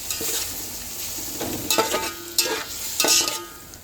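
A chicken biryani masala mixture sizzles in a pan while a spoon stirs it in several uneven strokes, scraping and clinking against the metal, close and moderately loud.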